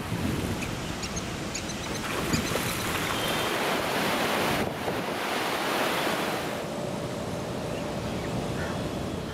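Large volume of river water released from a dam on the Kaveri, a steady broadband roar of rushing flow that stays loud and continuous throughout, with wind buffeting the microphone.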